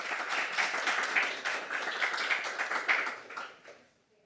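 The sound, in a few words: audience applause welcoming a guest at a book event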